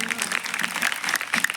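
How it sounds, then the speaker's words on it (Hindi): An audience at a Gandhi Jayanti function claps for a speaker, producing a steady, dense wash of applause that stays fairly loud and even across the short stretch. "एक बार सर के लिए जोरदार तालियां।"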